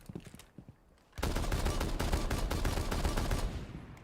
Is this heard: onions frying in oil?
no